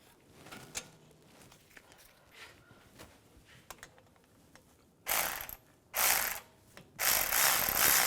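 Ratchet tightening bolts on a BMW X3 front wheel hub during a hub bearing replacement: faint scattered clicks at first, then three loud bursts of rapid ratcheting clatter close by.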